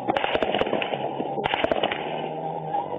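Rapid cracks of AK-47 rifle fire during an armed attack by dissidents in La Plata, Huila, burst in sharp irregular clusters, loud and close, with brief gaps between volleys.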